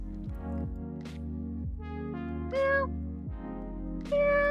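Game cat meows ring out, with two or three clear, high, tonal mews over a steady droning musical backdrop, as a hidden cat is found in the puzzle game Cats Hidden in Paris.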